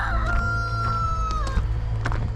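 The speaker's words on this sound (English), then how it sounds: "Rooster Crows a Whole Lot and Dogs Bark" A rooster crows once outdoors, a long sustained call that drops off at the end, fairly close, followed by faint clucking against a low background rumble.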